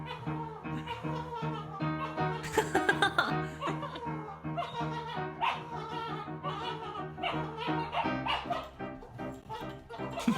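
Dogs fight over toys in a home with growls, yips and barks under dramatic piano music that plays throughout, with some laughter mixed in.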